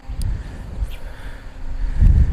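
Low rumbling wind buffeting a microphone, gusting stronger toward the end, with no voices.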